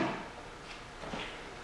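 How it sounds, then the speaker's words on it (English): A deep drawer in a DIY adjustable workbench, running on ball-bearing slides and loaded with wrenches and sockets, rolls shut with a soft, smooth sliding rumble and a muted thump, heard alone and close by. "They're all on ball bearing drawer slides, so they close nice."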